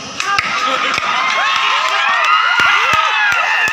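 Audience at a school alumni gathering claps and cheers steadily, with sharp hand claps and excited shouts and whoops from a lively crowd close by throughout.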